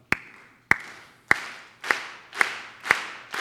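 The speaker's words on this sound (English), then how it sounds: "can we get some rhythmic clapping" An audience claps in unison, six sharp, evenly spaced claps about half a second apart, each ringing out in a large hall.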